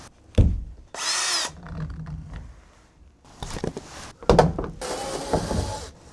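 Power drill removing screws from the ceiling light and interior trim of a kei van, several short whirring bursts with pauses and handling clatter between them, close and fairly loud, with no talk.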